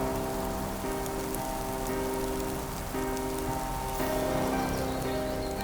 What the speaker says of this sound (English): Where'd this rain come from?